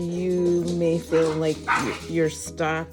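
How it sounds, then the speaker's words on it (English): Several dogs bark and yip indoors in repeated loud bursts, overlapping a person talking nearby. "excuse my dogs"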